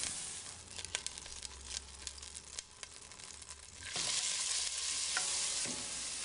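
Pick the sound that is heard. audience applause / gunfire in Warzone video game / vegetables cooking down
vegetables cooking down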